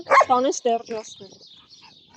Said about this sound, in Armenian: իսկ այս շունը խնդրեմ հաչում է